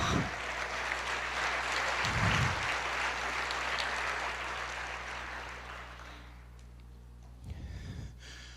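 A church congregation applauds during a sermon, a broad, steady clapping that runs for about six seconds and gradually softens, with a few close breathy sounds from a microphone breaking through.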